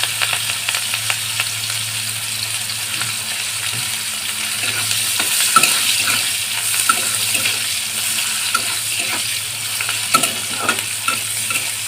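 Dried red chilli, green chillies and onion frying in a pan, a loud steady sizzle with frequent spatula scrapes and clinks throughout, close up.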